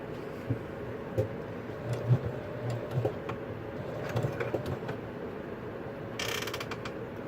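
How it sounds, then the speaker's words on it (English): A sewing machine stitches an accent piece, a steady mechanical whir with rhythmic clicking stitches and a short burst of faster whirring near the end. "Just go ahead and stitch this on."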